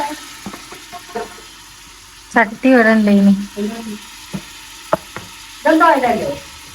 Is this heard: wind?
no